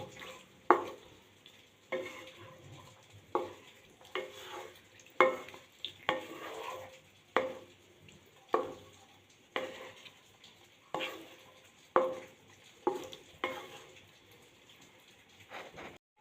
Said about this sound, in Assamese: এতিয়া অলপ লৰাই দিম মই ভালদৰে